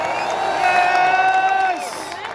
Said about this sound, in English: Give a big round of applause, come on!